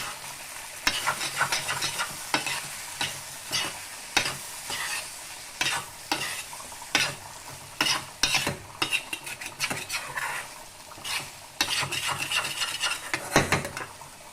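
Chicken sukka being stirred with masala in a pan: repeated scraping and clattering strokes of a spoon against the pan over a steady low sizzle, close and fairly loud, with no talking.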